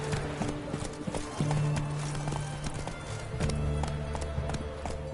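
Horse hooves clip-clop in The Witcher 3, a steady rhythmic trot of a white horse, moderately loud under steady background music and ambience.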